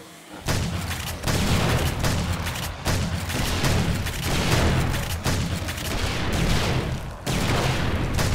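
Seeker explosions go off during a day-70 horde night in the modded 7 Days to Die video game. Dense, rapid booms and blasts crowd together almost without pause, and a few sharp dropouts break the loud barrage.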